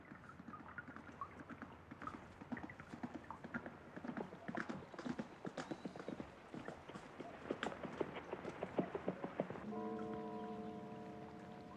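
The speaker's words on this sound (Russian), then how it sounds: "Красивый очень звук лошади, который проезжает мимо." A horse clip-clops past on a street, its hooves striking in a steady rhythm that grows louder as it nears, with a brief tonal hum near the end.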